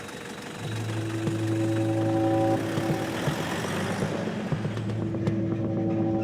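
A car travels along a road in Jamaica, its mid-range engine droning steadily with a low hum and faint vibration throughout, close and continuous with no talk.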